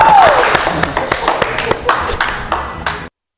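A few people clap hands in appreciation, a loose run of sharp separate claps with uneven spacing over a few seconds before stopping abruptly, with a brief ringing ping at the start.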